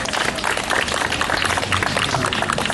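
Crowd applause at an outdoor Stockholm solidarity rally, a loud, dense, continuous wash of clapping that holds steady throughout.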